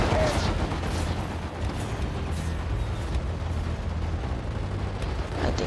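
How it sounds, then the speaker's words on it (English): Dense, continuous roar of Planetside 2 battle fire, heavy machine gun rattle blended with blasts and rumble, loud and unbroken throughout with no clear speech. "It's a goddamn machine gun."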